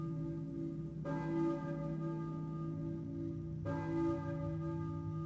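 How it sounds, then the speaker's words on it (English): A church bell tolls in the Silent Hill video game, with two distinct strikes whose ringing tones hang and decay over a low droning background. "I hear a church bell, maybe?"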